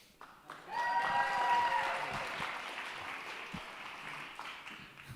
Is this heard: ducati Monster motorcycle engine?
no